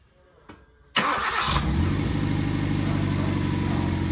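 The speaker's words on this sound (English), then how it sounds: "One more time I will start the car and I will show you guys." A car engine cranks briefly and catches, then settles into a steady, loud idle close by, with no talking.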